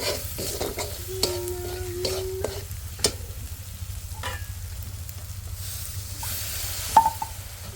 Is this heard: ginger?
yes